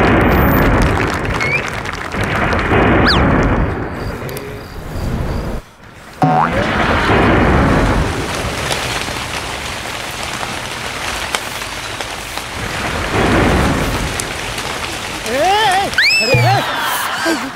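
Heavy rain pours steadily on a stage during a Marathi television comedy sketch, a dense hiss that stays loud throughout while voices talk over it and a few springy boing effects sound near the end.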